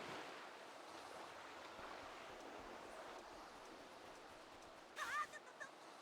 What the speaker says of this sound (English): Okay, so that's windy.